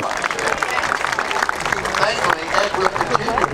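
An audience at the 2012 Pebble Beach Concours applauds a retiring chief judge, steady clapping with crowd murmur mixed in, loud and continuous throughout.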